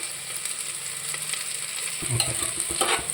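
Onions, green chillies and curry leaves frying in a pan for chicken biryani, a steady hiss of oil that turns louder and crackles more in the second half, with no voices.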